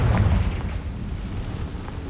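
Confringo fire spell explosion in Hogwarts Legacy, a single deep boom up front that rolls off into a low rumbling tail, with no talk over it.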